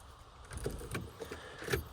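Keys jangling softly a few times in short bursts as the key for a 7.3 Powerstroke OBS Ford truck is fetched, faint and close with a quiet background.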